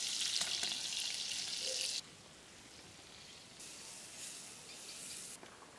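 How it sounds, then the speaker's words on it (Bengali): Giant freshwater prawns fry in a pan with a steady, bright sizzle that drops suddenly, then swells again in bursts, with no talking. "মাছগুলো এত বড় যে 3টের বেশি ফ্রাই প্যানে দিতে পারতেছি না।"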